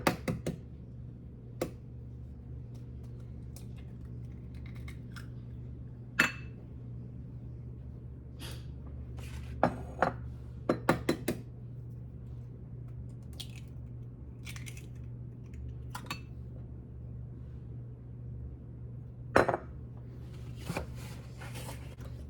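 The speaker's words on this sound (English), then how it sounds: "Let me give these walnuts a rough chop" A knife roughly chopping walnuts on a board, scattered sharp taps and clusters of quick knocks at irregular intervals, close and fairly quiet over a low steady hum.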